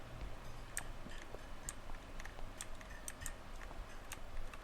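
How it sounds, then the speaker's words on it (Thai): A clock ticks steadily in the horror video game Father: The Truth, with faint, evenly spaced ticks about once a second over a low background hum, and no voices. "อ๋อ เสียงนาฬิกาแม่"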